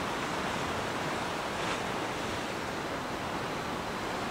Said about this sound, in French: Et ça, un océan déchaîné.